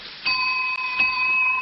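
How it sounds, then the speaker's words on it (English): A bell rings to open a radio quiz show for children, two bright struck tones about three-quarters of a second apart with a long sustained ring in between, clear and alone. "That bell calls class to order, Quiz Kids."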